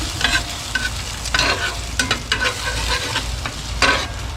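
Breakfast burrito filling with jalapenos sizzles loudly in a pan while a utensil stirs and scrapes through it in quick, uneven strokes, close up.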